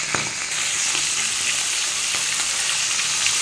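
Large tilapia fish frying in hot oil, giving a dense, steady sizzle close by with scattered sharp pops and crackles throughout.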